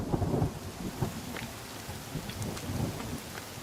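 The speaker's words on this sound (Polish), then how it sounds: "deszcz zaczyna padać." Steady rainfall in the video game The Forest, with low rumbling, a continuous wash of drops and distant thunder-like swells, no voices.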